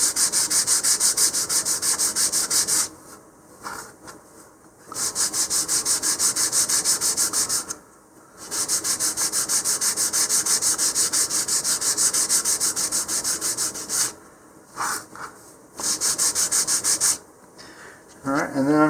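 A thin model rocket part for a payload altitude rocket is sanded by hand with sandpaper, making steady, close, raspy rubbing strokes in long runs, broken by several short pauses.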